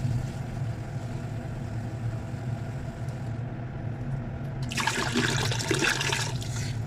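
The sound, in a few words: water added to lassi for kadhi pakora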